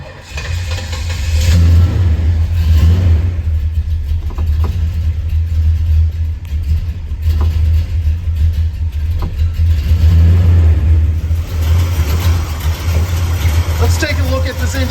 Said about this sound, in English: let's go fire this one up so you can hear it.